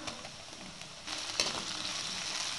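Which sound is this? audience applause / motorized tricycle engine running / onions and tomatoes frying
onions and tomatoes frying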